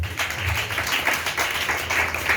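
A church congregation applauds in praise during a French-language sermon, with dense, continuous clapping from a crowd that fills the room steadily throughout.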